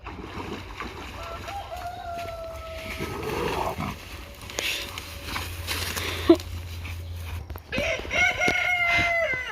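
A rooster crows a few times over soft background noise in a Kentucky garden, with scattered chicken clucking and a sharp knock partway through.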